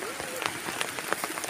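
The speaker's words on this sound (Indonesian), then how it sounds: "Ini hujan lagi ini tuh." Steady rain falls and patters on surfaces outdoors, a dense hiss with scattered sharper drops throughout, heard close.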